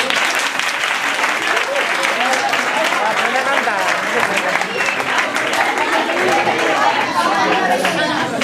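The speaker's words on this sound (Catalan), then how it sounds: "Un fuerte aplauso." An audience at a Christmas recital applauds steadily, a dense and loud clapping that holds for the whole clip with mixed chatter and voices underneath.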